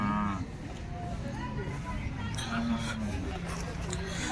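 Cattle moo and low among a busy crowd at a cow market in Loni, with people talking over the animal calls and general market bustle.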